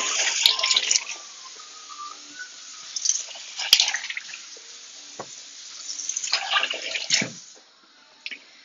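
Tap water runs and splashes as vegetables for a Moroccan lamb couscous are rinsed in a kitchen sink, a steady close stream with drips and small surges, no talking.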